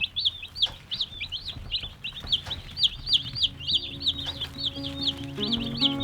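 Young chickens and turkeys in a brooder keep up a steady run of high, rapid peeping chirps from many birds at once, close by and fairly loud, over a low background hum.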